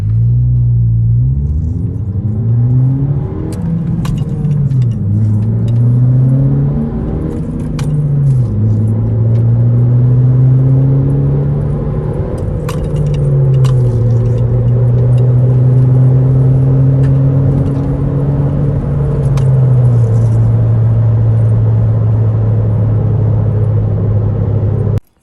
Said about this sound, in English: So that's the muffler and resonator delete.